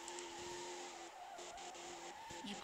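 Drift car tires squealing in the racing game Assoluto Racing, a sustained screech with a steady engine drone wavering through short slides, loud and continuous with no talk.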